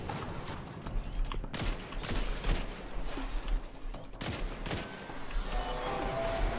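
Weapon fire in the Destiny 2 video game, with repeated sharp bursts of shots layered over dense game noise and explosions, loud and continuous without talk.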